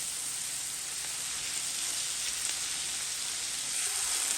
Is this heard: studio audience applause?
no